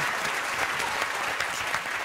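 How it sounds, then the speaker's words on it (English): Studio audience applause on a TV comedy panel show, dense and steady throughout, filling the room at a fairly loud level with no clear voices over it. "give him a round of applause"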